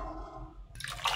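Water poured into a pressure cooker of lentil dal (biulir dal) seasoned with turmeric and salt, a close splashing rush that starts suddenly partway through and stays loud to the end.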